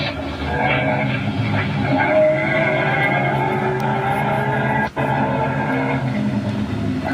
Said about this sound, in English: Get back in the car and head up the road again.